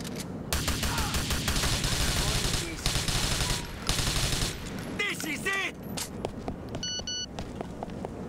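Grand Theft Auto IV gunfire rattles in rapid, dense bursts for most of the clip, with footsteps and scattered game sounds mixed in and thinning out toward the end.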